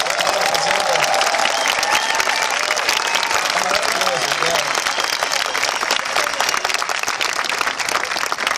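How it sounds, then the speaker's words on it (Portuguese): A large audience applauds and cheers at a public debate in Brazil, producing a steady, loud wash of clapping with crowd voices mixed in throughout. "palmas para eles também"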